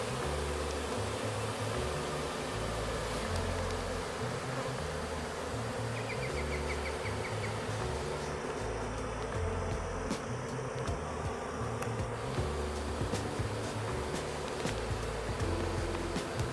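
Honeybees from a shaken, queenless hive drone in a steady, dense buzz close by, continuous and unbroken throughout.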